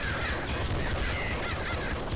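Crows cawing in the top-down shooter video game Nuclear Throne, harsh repeated caws over a dense, noisy backdrop of game effects and gunfire, steady and fairly loud throughout.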